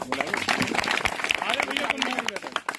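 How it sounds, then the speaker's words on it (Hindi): Village meeting crowd clapping for a local organiser, brisk uneven applause close by with people talking over it. "सबसे पहले वो भाई के लिए ताली बजाएं"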